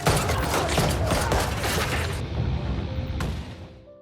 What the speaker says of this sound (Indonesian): Kuto dengan senjata di tangannya melakukan tembakan untuk melawan mafia itu